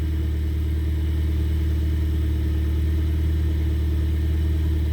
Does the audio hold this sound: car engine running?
yes